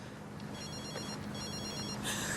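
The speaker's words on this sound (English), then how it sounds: "Is that your phone? Don't you want to answer it?" Mobile phone ringing with a repeating electronic tone over dense background noise in a crime reconstruction scene, moderately loud, no clear talking.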